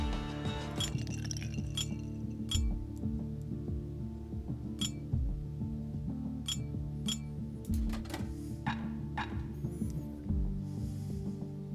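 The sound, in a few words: private reserve bottle being opened in video game Bastion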